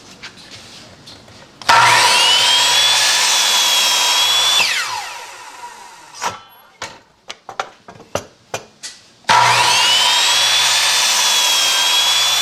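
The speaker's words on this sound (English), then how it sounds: "I have a guide or stop right here set up at 3 inches on my chop saw, so I could cut these down really fast." A chop saw with a 3-inch stop spins up and cuts through wooden bottle stopper blanks in two loud whining bursts, with clacks and knocks of the wood being handled between them.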